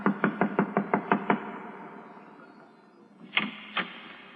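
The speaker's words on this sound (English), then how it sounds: "I'll knock on the door and try it again." Knocking on a door: seven quick, evenly spaced raps close by, a pause, then two slower, louder knocks, over a quiet background hiss.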